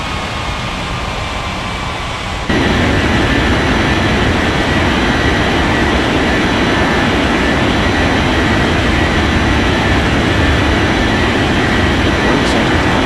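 Jet airliner roaring down the runway on takeoff in an air traffic control game, a broad heavy engine rumble that swells abruptly after a quieter start and then holds loud and steady.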